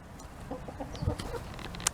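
A chicken gives a few short, soft clucks, fairly faint and close, spread across a brief moment with no talking.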